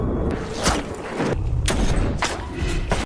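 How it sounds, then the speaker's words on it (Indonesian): Sniper rifle shots ring out in a film scene, with several sharp booming cracks spaced about a second apart over a dense rumbling background. "Z langsung menembaki mereka"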